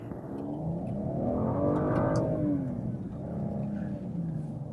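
A 2013 BMW X1 small crossover pulls away, its engine note rising as it accelerates, then easing off and building again, heard fairly quietly from inside the cabin.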